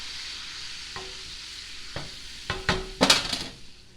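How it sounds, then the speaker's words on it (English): Browned butter with a teaspoon of vanilla added in a hot pan, a soft steady sizzle with a few sharp bursts and crackles as the liquid hits, growing busier toward the end, with no talk. "that nice sizzle"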